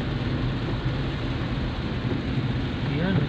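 Steady heavy rain roars continuously, with a low rumble that could be distant thunder; no voices are heard.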